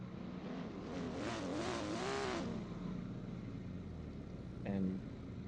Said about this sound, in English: Anthony Taylor in that A90 Supra